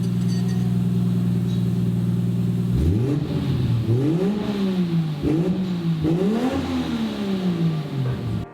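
A Toyota Soarer's 1JZ engine breathes through a test exhaust resonator: a steady droning idle, then three or four rising and falling rev blips, close and fairly loud.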